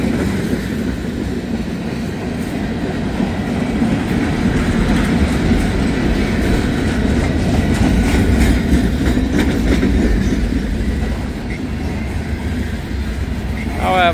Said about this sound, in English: All these empty steel coil cars going by.